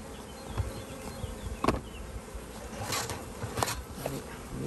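A honeybee colony buzzes during a spring hive inspection, a steady insect hum close by with a few brief louder knocks and rustles over it.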